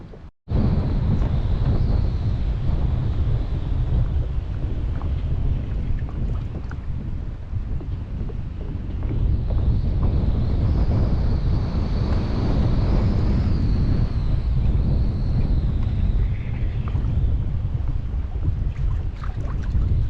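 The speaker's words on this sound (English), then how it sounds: "Check out how bad the wind's blowing." Strong wind roars across a GoPro mounted outdoors on the water during a fishing outing, a loud, continuous buffeting rumble that barely lets up for the whole stretch.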